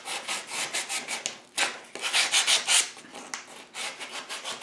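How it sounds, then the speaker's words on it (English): Sandpaper rubs back and forth in quick repeated strokes along a saw kerf and edges of a wooden bowl, a raspy close scratching in rhythmic bursts with brief pauses between. "put some sandpaper down the kerf just to get rid of the sawdust in the kerf, and then across the edges to get rid of the fuzzies"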